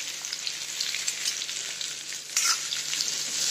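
Onion frying in a pan, a dense, continuous close-up sizzle that holds steady for a few seconds and swells briefly near the end, without any voices.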